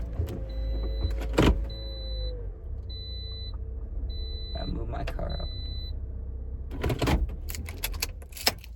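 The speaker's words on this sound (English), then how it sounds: "hold on, I gotta move my car up." A car is pulled forward a short way: a low idling engine rumble runs throughout, with electric window motors whirring, a key jangle and a thump, while someone talks over it.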